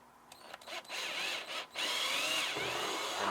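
A power drill drives a screw to fix a magnet onto a rolling transport tray, with whirring bursts broken by short pauses and then a longer, steady run, loud and close with no talk.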